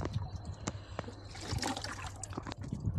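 Water drains and trickles off soaked sticky rice in a tilted tray, a close, irregular run of wet splashes and drips.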